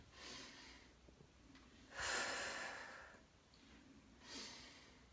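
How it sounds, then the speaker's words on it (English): Close, soft breathing during a pre- or post-natal exercise: three slow, airy inhales and exhales through the nose and mouth, each swelling and fading. "so you inhale here and then exhale"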